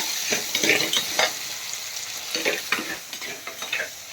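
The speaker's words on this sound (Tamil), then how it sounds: "இது வந்து பார்த்திங்கன்னா கொஞ்சம் நேரம் அப்படியே வந்து நல்லா வந்து வேகட்டும்" Onions, tomatoes and salt fry in a pan with a steady sizzle, broken by repeated scraping stirs of a spoon against the metal, close and fairly loud, with no voices.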